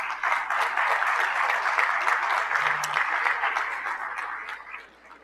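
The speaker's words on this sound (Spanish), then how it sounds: "Brindemos un fuerte aplauso, por favor." A crowd applauds steadily, a dense wash of clapping that holds for several seconds before thinning out at the end.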